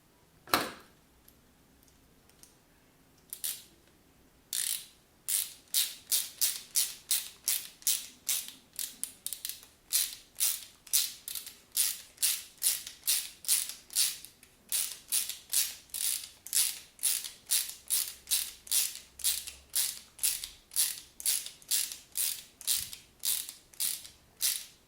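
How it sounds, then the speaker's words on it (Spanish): Self-tapping screws being driven into the plastic parts of a Reprap Prusa P3Steel 3D printer frame, making a long run of rapid, evenly spaced ratcheting clicks. A few scattered knocks come first, then the clicking settles into a steady rhythm, close and fairly loud. "estos tornillos entran haciendo su propia tuerca sobre el plástico."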